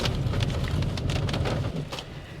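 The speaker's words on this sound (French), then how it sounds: "la pluie s'est calmée" Steady rain in Guadeloupe patters close by, a dense, even hiss of drops on a surface with no voices.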